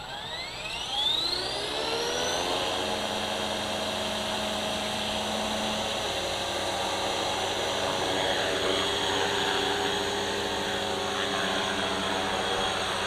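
Blade Talon RC helicopter in flight with high rotor RPM: a loud, close, steady whine that rises in pitch as it spools up over the first two seconds, then holds a constant droning hum.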